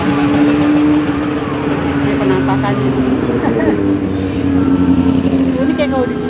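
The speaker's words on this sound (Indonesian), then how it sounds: "Mesin Vespanya." An extreme custom Vespa scooter engine idles and putters steadily up close, a loud continuous mechanical drone with a rough low rumble, while someone talks over it.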